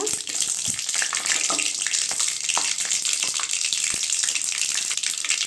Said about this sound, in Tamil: கடுகு போட்டுக்கலாங்க காஞ்ச மிளகாய் போட்டுக்கலாங்க